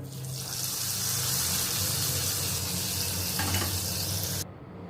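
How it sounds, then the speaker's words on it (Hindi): Sizzling tempering of spices and Kashmiri red chili powder poured into Sindhi-style besan kadhi, a loud, steady hiss and crackle of hot oil lasting several seconds before abruptly cutting off near the end. "ये मैं अभी ये कड़ी में ये तड़का डालती हूँ"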